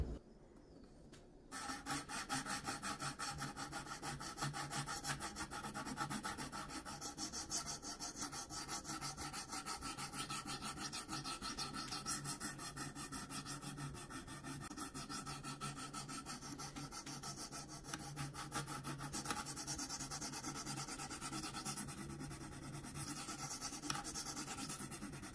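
A Spyderco Yojimbo 2 knife in 20CV steel being sharpened on a KME guided sharpener: steady, rapid rasping strokes of stone on blade edge, close and continuous, with a brief pause at the start.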